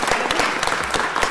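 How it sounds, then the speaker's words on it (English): Audience at a city council meeting claps together in a dense, continuous patter of many hands, loud and close throughout, with no talking over it. "you can please help me give them a big round of applause for their tremendous effort"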